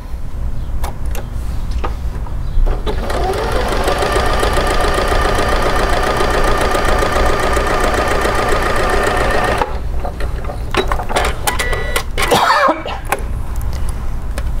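A sewing machine fitted with a straight stitch needle plate sews a straight stitch on lycra, a steady loud whirring run of about seven seconds, framed by softer clicks and handling noise before and after.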